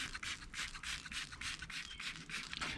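A grinder sands the corners of a surface in repeated rhythmic passes, a close, steady rasping scrape that pulses about every quarter second. No voice is heard.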